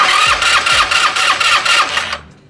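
An Italika W-150 motorcycle with no spark cranks on its electric starter while the throttle is worked, a steady rhythmic churning of about eight loud, even strokes that never catches, then cuts off into silence.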